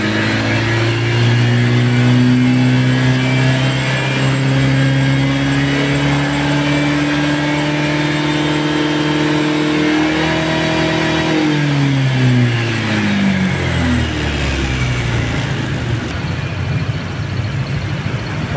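A Honda Vario 160 scooter engine revs hard and holds a high, steady whine. It then winds down in pitch, close and loud throughout, with no talking.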